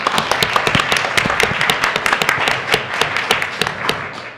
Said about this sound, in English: we should give them all a big round of applause